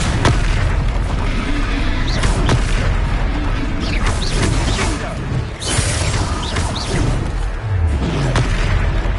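Confringo blasting spells from Hogwarts Legacy explode in repeated deep booms, layered within dense, continuous combat clamor, with voices faintly present.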